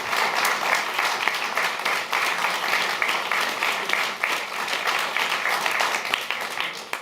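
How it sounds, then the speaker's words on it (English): Warm applause from a theater audience greeting panelists at a talk on climate democracy, a dense, continuous crackle of many clapping hands that holds steady and fairly loud throughout. "So give them a warm round of applause."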